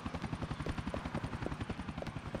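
A helicopter in the video game Grand Theft Auto IV gives a steady, rapid rotor chop that throbs continuously throughout, loud and near, with no speech over it.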